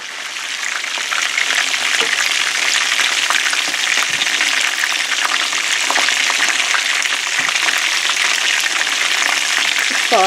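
Chicken pieces for lemon chicken frying in a pan, giving a steady, loud sizzle with crackling pops that runs unbroken throughout, with no voices.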